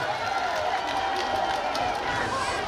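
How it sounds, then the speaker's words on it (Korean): A festival crowd at the Mungyeong tea bowl festival applauds the mayor with a dense, continuous wash of clapping and crowd noise, voices mixed in throughout. "시장님 박수 한번 모시겠습니다"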